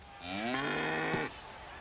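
A single long cow moo from an in-game insurance ad in the baseball video game MLB The Show 25, clear and fairly close, lasting about a second with no talk over it.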